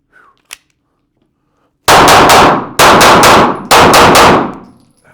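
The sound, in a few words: pistol gunshots at shooting range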